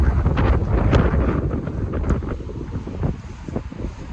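Spring wind gusts across an outdoor microphone near wildflowers, a loud rumbling buffet that swells and eases over a few seconds with no voices.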